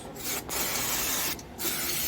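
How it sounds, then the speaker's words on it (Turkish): Brake pad cleaning spray is sprayed on the brake parts of a Honda CBR125R during a pad change, a close, steady hiss broken by two brief gaps. "balata spreyimizi sıkıyoruz."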